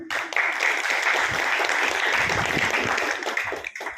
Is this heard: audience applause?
yes